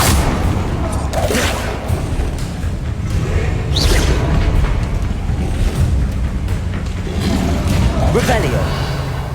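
Confringo fire spell explosions in the Hogwarts Legacy video game, loud booming blasts bursting out of a dense, continuous layer of game sound effects and music.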